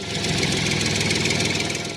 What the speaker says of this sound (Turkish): Bu bir traktör.